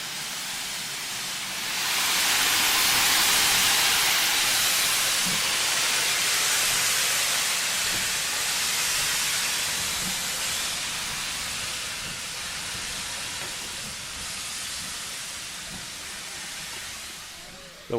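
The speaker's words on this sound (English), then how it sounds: "they're certainly making their own fog from their steam" A steam tank engine at a heritage railway gala lets off a loud, sustained hiss of steam that swells after a couple of seconds and holds steady, gradually easing toward the end.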